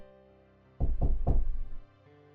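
Three firm, evenly spaced knocks on a front door sound close and loud, followed by a quiet room tone.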